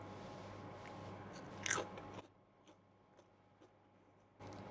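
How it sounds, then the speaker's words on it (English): A sharp crunch of a bite into crispy air-fried potatoes, one loud close bite with brief chewing, then near silence. "Did you hear that crunch?"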